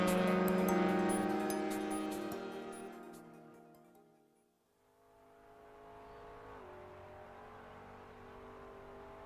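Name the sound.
GT3 race cars driving at Okayama in iRacing video game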